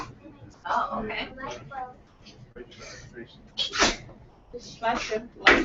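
A sharp, loud sneeze bursts out close by amid people chatting, with a second smaller sneeze-like burst shortly after and voices continuing around it.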